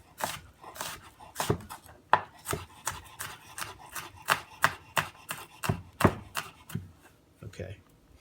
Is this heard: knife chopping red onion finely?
yes